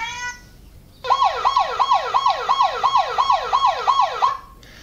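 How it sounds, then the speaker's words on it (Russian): A police siren sound effect plays from the phone on a homemade camera robot, a rapid wailing yelp repeating about a dozen times for several seconds, loud and close, with no talking. "И звук полицейской сирены."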